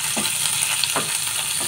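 Crushed ginger and green chillies fry in oil with a constant, close sizzle, punctuated by a few soft stirring scrapes at regular intervals.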